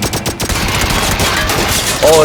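Rapid bursts of gunfire crackle continuously, dense and loud, with game-like sound effects filling the background, in PUBG.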